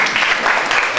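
A school audience at a career counselling session bursts into dense, steady clapping applause, close and loud for a brief moment.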